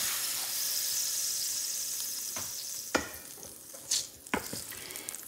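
A ham steak sizzles loudly in a Field Company No.10 cast iron skillet, a steady hiss broken by a few scraping clanks as it is stirred and lifted from the pan.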